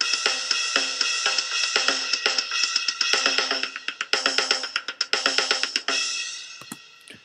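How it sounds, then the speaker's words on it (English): A short programmed drum loop with busy cymbals, hi-hats and crisp hits repeating in a steady pattern, bright and fairly quiet, with no voices. "I have programmed a short loop here."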